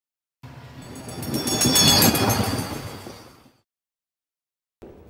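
Cartoon train pulling out of a station, a swelling rumble and clatter with a whistle-like tone that builds to a peak and fades away, followed by silence and a brief new sound at the end.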